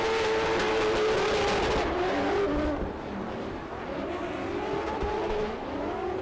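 A drift car at the Oman International Drift Championship finals, engine revving and wavering loudly with tire squeal, the sound easing off a little midway before building again.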